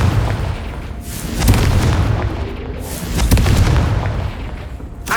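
Booming blast bursts from the Confringo spell in Hogwarts Legacy, several heavy low-end explosions rolling close and loud, with a sustained rumbling crackle between the hits.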